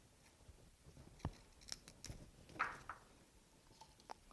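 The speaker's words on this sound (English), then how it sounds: "If it's a little long, you can always cut it down again." Scissors snip through flower stems for a Valentine table arrangement: a few quiet, separate cuts spread across a calm, otherwise hushed room.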